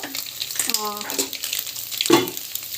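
Egg masala sautéing in a pan gives a steady, moderate sizzle with stirring scrapes, while a voice talks over it.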